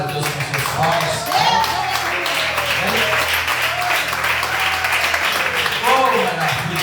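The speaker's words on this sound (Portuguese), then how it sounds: "Se quiser adorar a Deus com seus palmas" Church congregation clapping during worship, steady rhythmic hand claps across the room mixed with voices and a sung or spoken line over the top.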